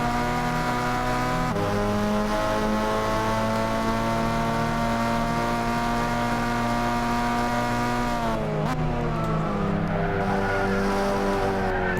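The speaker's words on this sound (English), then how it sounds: "Locking the shit out of the brakes." Race car tires skidding and squealing under locked brakes in Gran Turismo 6, a Super GT500 car, with a loud steady engine drone and a sustained harmonic screech that breaks and shifts pitch near the end as the car slides wide.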